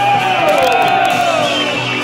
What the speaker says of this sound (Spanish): ¿Cuántos pueden dar un grito de júbilo?